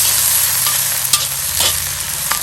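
Red peppers stir-fried in oil in a Lodge wok over a Weber charcoal grill; a loud, continuous sizzle with a few sharp scraping stirs, no voices.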